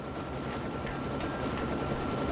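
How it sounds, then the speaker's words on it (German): Helicopter rotor chop and turbine whine from the shooter video game XIII, a steady, dense thrum held close and continuous with no talking over it. "Gehen Sie an Bord des eines Helikopters."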